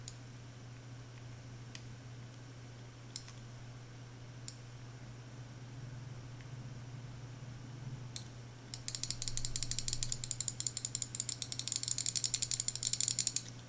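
A Finalmouse ULX gaming mouse's buttons click, with a few sparse, sharp clicks early on and then a fast, dense run of crisp clicks, close and quiet over a faint steady hum.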